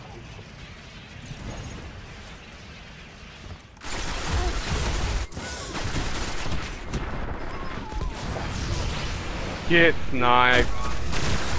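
Gunfire in the Destiny Crucible multiplayer mode, with rapid shots and bursts of fire that grow louder partway through, heard under voices talking.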